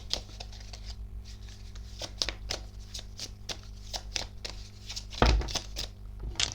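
Tarot cards are shuffled and drawn by hand in a quiet room, a run of soft, crisp riffles and slaps with irregular rhythm and one louder thump near the end.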